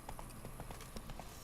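Horse hooves clop in a quick, even galloping rhythm in The Witcher 3 video game. The sound is soft and muffled under a dense, noisy game background.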